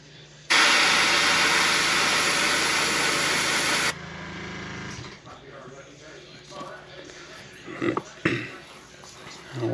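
A heat gun blows steadily while setting paint on a shad-pattern fishing lure, a loud broadband roar that runs for about three seconds then cuts off, leaving quieter handling noises and faint knocks.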